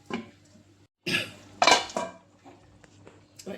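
A metal lid set onto a pot of simmering Bengali prawn malai curry, heard as a few distinct clanks and clinks of metal on metal, close and fairly quiet, with brief gaps between them and no talk.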